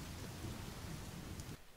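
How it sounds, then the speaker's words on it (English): Steady rain with a low thunder rumble in the survival video game The Forest, a dense, even wash of noise that ends abruptly. "Put itself out. Rain."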